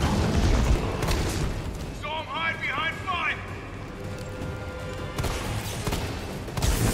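Gunfire from the Resident Evil 3 Remake video game: heavy, booming broadband blasts near the start and again toward the end, with excited talk running over the gameplay in between.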